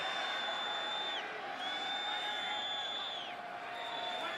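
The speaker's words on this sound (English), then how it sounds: "How about Nakua trying to get the crowd to be loud to foul up the snap count?" Loud football stadium crowd at Boise State roaring continuously to disrupt the snap count against BYU, a steady sustained din with high whistles sweeping through it.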